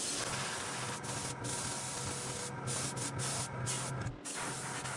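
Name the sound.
airbrush spraying green paint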